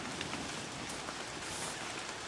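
Steady rain falls outdoors near a fire someone is trying to keep burning, a dense, even hiss of drops on surfaces that lasts the whole moment with no voices.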